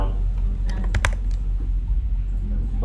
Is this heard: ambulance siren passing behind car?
no